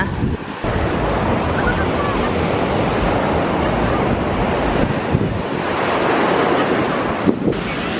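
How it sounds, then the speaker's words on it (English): Ocean waves wash and break steadily on a beach at sunset, a loud continuous roar of surf mixed with wind buffeting the microphone, with no speech over it. "There's some good waves going on"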